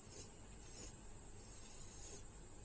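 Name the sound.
pencil darkening a line on paper while drawing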